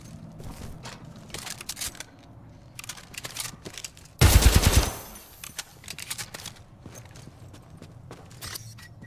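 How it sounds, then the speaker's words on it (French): A double rifle fires during a Titanfall 2 campaign battle, a single loud, rapid burst of shots lasting under a second amid faint clatter and game effects. "Fusil double. Ouh, c'est bien ça."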